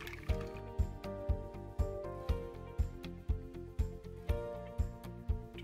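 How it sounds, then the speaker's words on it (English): Two large eggs are whisked in a large mixing bowl, giving a quick, steady rhythm of soft wet taps and squishes against the bowl, close and fairly quiet with no voices. "crack 2 large eggs in a large mixing bowl. Gonna give those a quick whisk, get them broken up"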